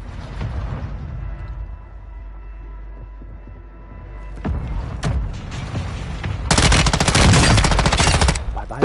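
Gunfire in the Call of Duty Warzone battle royale video game: scattered shots and rumble, then dense rapid machine-gun bursts that are loud and close. No talk is heard.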